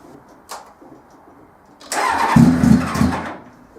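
Carburetted motorbike engine in a home garage cranks once briefly, then fires and catches with a loud close rumble that roughly idles for a couple of seconds before fading.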